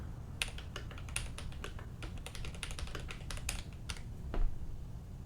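Fingers typing on a computer keyboard, a quick irregular run of crisp key clicks over about five seconds, moderately close and alone with no voices, ending in a slightly louder final tap.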